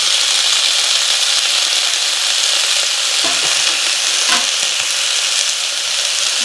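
Fresh dhekia fern greens fry in a wok over a wood-fired stove, giving a loud, continuous close-up sizzle with occasional scraping stirs and no talking.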